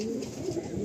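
A tournament-quality pigeon gives soft, low, throaty coos in a short steady run, close by and fairly quiet, with no other sounds over it.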